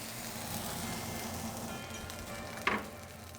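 Ribeye steak searing in a hot pan gives a continuous close sizzle and crackle, broken near the end by a brief sharp clink of metal.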